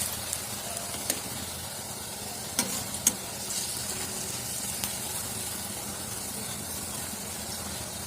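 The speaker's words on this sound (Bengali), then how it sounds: "এইভাবে বড়াগুলো আমি ভেজে নেবো, লাল লাল করে একটু ভেজে নেবো" Urad dal fritters (bora) frying in hot oil, a steady soft sizzle running throughout with a few light clicks and pops, fairly quiet and close with no talking.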